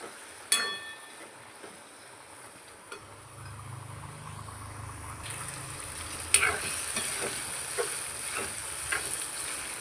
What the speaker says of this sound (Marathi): हे दोन बटाटे उकडून घेतलेले आहेत आणि सोलून घेतलेले आहेत ते ह्याच्यामध्ये ॲड करायचे आहे आणि हे पण व्यवस्थित ह्याच्यामध्ये भाजून घ्यायचे आहेत